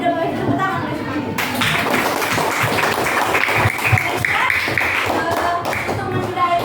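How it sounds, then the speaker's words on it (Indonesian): A class claps together in a teaching simulation, dense applause with some taps and thumps running through the clip, children's voices mixed in. "Berarti udah boleh tepuk tangan guys semuanya."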